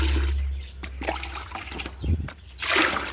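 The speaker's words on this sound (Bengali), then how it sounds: "সেগুলোতে এবারে এই উপর থেকে জলটা আমি দিয়ে দেবো" Diluted mustard cake fertilizer water poured onto garden plants, a close trickle with soft splashes and gurgles in short uneven bursts.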